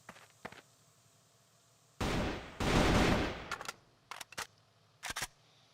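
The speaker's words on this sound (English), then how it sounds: "he's just going to snipe him with the AK, basically" A single AK rifle shot fired as a long-range snipe in a competitive Counter-Strike-style shooter match: a sharp, loud crack with a heavy rumbling tail, followed by several quieter short gunfire bursts.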